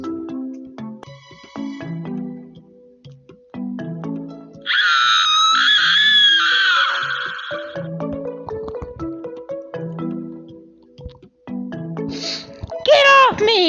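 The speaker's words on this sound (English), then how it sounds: "The girl screams." A girl lets out a loud, piercing scream lasting about two seconds midway, set between stretches of talking, with another sharp high shriek near the end.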